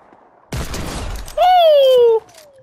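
Desert Eagle pistol shots in the Fortnite video game, a loud burst of gunfire followed by a sharp ringing, whistling tone that slides downward, close and alone without talk.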